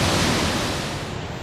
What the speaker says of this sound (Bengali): আমি কিন্তু একটা ঝর্ণার সামনে বসে আছি